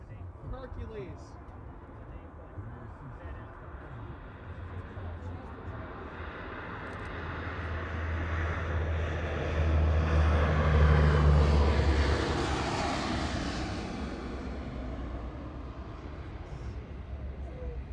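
A Lockheed C-130 Hercules military transport flies past at the 2025 Cleveland air show. Its propeller engine drone swells from a distant hum to a loud, rumbling peak midway, then fades away over an outdoor crowd ambience.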